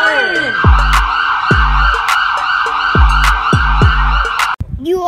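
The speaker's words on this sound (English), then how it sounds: "No, it's siren!" A wailing emergency siren sweeps up and down, loud and near, with rhythmic low whoops pulsing beneath it before cutting off abruptly.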